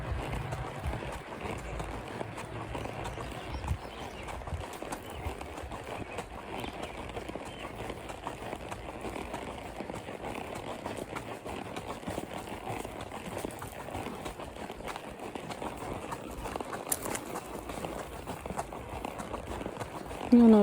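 Horse hooves clip-clop steadily and close along a farm track during a ride, a continuous rhythmic patter with rustling and outdoor noise, no talk over it.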